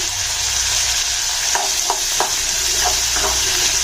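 Golden-brown onions with green chillies frying for thanni chutney, a loud steady sizzle up close, broken by several short scraping knocks of a spoon stirring the pan, with no voices.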